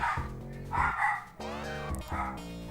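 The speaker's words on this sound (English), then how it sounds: "Well, my dog's pulling a hissy fit." A pet dog barks and yips indoors in several bursts, fairly close and loud, over video game music.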